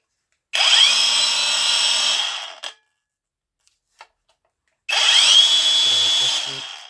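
A DeWalt DCG405 cordless angle grinder run at its second speed, two close, loud bursts of high whining motor spinning up and holding steady, each winding down into silence, with small clicks between.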